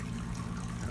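Bourbon-style all-grain mash liquid drains out through two tubes, a steady close trickle and gurgle of liquid, faint and continuous with no talk.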